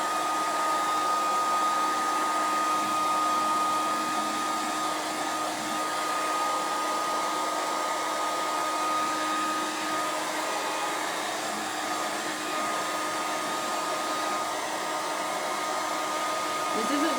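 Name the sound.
heat tool drying paint on a stencilled sign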